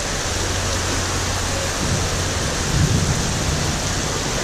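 Heavy rain pours down steadily on a cruise ship in port, a loud, dense hiss of falling water with a few low rumbles mixed in, continuous and without speech.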